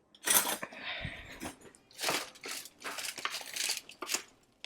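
A spoon fetched in a kitchen while making loaded tater tots: bright metallic clinks and jangles of cutlery, several close rattling bursts with short pauses between, loud and crisp.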